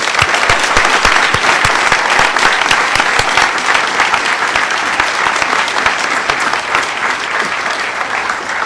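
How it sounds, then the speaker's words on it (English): Vigorous audience applause at a hacker conference closing ceremony, a thick wash of clapping from a large crowd that holds steady and tapers slightly toward the end. "So I want to give a great, big applause to Emmanuel and everybody at Hope"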